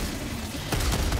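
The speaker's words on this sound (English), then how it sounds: "My autocannon's putting in a little bit of work back there." Autocannon fire in Helldivers 2, a dense burst of heavy booming shots clustered near the end of a short stretch of rumbling battle noise.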